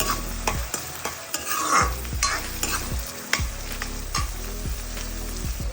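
Onions fry in a pan for a spicy Andhra-style crab curry, a loud sizzle broken by repeated rhythmic scraping and clanking strokes of a spoon stirring them.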